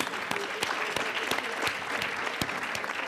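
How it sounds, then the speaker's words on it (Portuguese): An audience at a conference panel applauds the guests, steady dense clapping with a few sharper individual claps standing out, no speech on top. "O nosso aplauso aqui aos nossos convidados"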